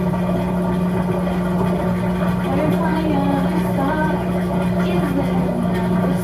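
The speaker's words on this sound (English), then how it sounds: "Sorry if you can hear the washer behind me." A washing machine runs loudly close by, filling the room with a steady low hum and a continuous mechanical drone.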